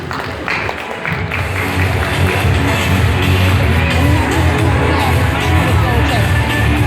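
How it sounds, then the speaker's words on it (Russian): An audience at a consumer cooperative ceremony, as people are called to the stage, claps and cheers in a loud, thick roar of hands and voices that swells and then holds steady. "Аплодисменты."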